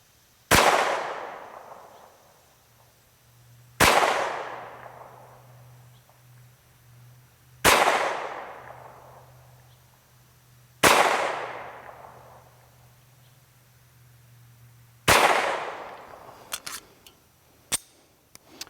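SAR 2000 pistol firing 124 grain Federal ball ammo on a range: five loud, sharp shots spaced a few seconds apart, each followed by a fading echo, with a few small clicks near the end.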